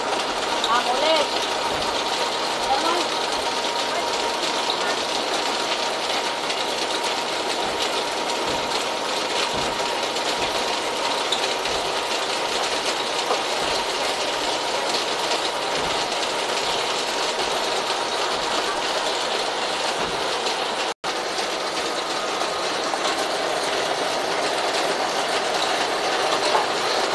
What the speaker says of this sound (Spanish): Este es eléctrico, pero cuando se va la luz, usamos el de mano a moler.